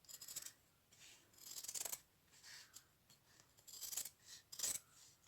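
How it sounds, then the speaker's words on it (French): Paper being trimmed with scissors for a folded craft pouch, giving several short, crisp snips and rustles close by at low volume, with no one speaking. "Je pense que ça, je vais encore le couper."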